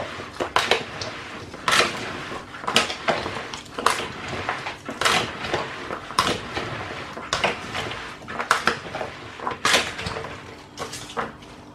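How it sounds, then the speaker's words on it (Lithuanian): Chopped pickled cucumbers being mixed in a bowl, making repeated clinks and scrapes about once a second, fairly close and otherwise quiet. "Dabar labai gerai išmaišom."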